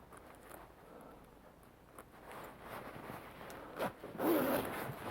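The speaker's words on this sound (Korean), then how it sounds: "자, 지퍼를 채웁니다." A zipper is drawn up on a men's sheepskin leather jacket during a repair, giving a close, scratchy rasp that builds in several short pulls and ends with a louder final zip, with no talking.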